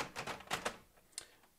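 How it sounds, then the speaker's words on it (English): A word processor rehomes its print head after the lid is shut, giving a quick burst of mechanical clicks and whirring ticks over about a second, then a single fainter click, close and moderately quiet. "let's close the lid, and it rehomes the print head because it thought I had the lid open."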